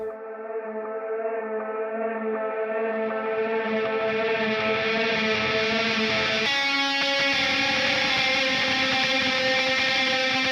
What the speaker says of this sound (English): I take the beginning of that and then I reverse it and it sounds like this.